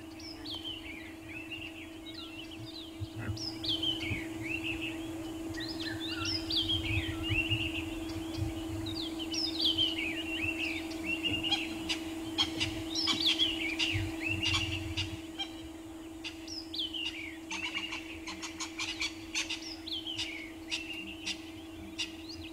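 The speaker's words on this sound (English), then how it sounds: "Crested Franklins, scrub robins, drongos, a red-chested cuckoo all calling and greeting the new morning." Crested francolins, scrub robins, drongos and a red-chested cuckoo call together at dawn in the Sabi Sand, with repeated whistled phrases and chattering notes over a steady low hum, moderately distant.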